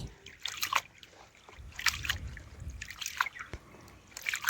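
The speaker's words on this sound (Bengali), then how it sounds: "এখন কিন্তু আবারও একবার জল দিয়ে আমি ধুয়ে নেব" Ration rice being rinsed and rubbed by hand in water in a home kitchen, giving intermittent sloshing, trickling and splashing bursts at close range, with no talk over it.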